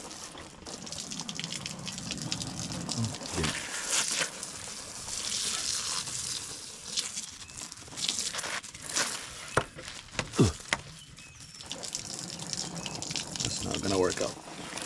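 Water from a garden watering setup hisses and splashes unevenly, running under a voice, with occasional clunks and bumps.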